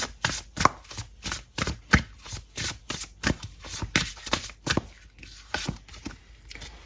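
Tarot cards shuffled by hand in a steady run of about twenty crisp, rapid riffling bursts, close and clear, with no talking over them.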